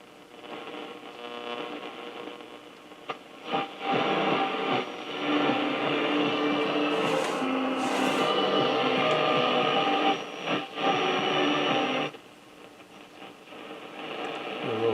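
A Stewart Warner 61T26 radio tuned across the band, giving a steady wash of loud static and hiss with a faint station buried in the noise. It swells and drops as the dial moves, with brief dips and crackles, and no talk.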